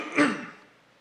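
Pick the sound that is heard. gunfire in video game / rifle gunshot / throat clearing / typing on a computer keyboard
throat clearing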